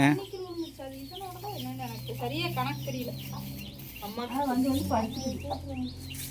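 Chickens clucking near chicks at a rural home, continuous close clucks and calls over a low background hum, with no speech.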